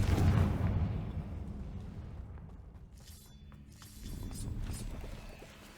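A Confringo blasting spell explodes in Hogwarts Legacy with a heavy boom at the start that fades out, then a second, softer rumbling burst a few seconds later.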